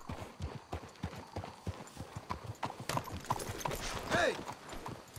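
Horse hooves clip-clop in a quick, steady rhythm in Red Dead Redemption 2, growing busier, with a brief whinny near the end.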